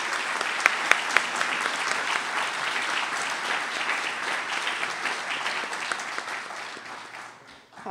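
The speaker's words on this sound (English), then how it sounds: "So please give a round of applause for them." A large audience at a New Jersey state awards event applauds a middle school, a full, steady wash of clapping with a few sharper claps standing out, tapering off near the end.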